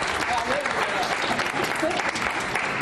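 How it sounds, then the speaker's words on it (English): Town hall meeting audience on healthcare breaks into steady, dense applause, loud and continuous throughout, with a voice faintly audible beneath the clapping. "we should give her an applause"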